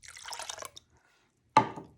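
One cup of cold water is poured into a bowl of dissolved gelatin: a short splashing pour, a pause, then a second brief splash that fades quickly.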